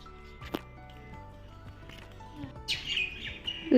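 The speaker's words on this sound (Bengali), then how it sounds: "দেখো পাখিগুলো খুব সুন্দর ডাকছে" Birds chirp and call intermittently around an outdoor village setting during a Shitala puja celebration, with sharper, brighter calls rising near the end over low background hum.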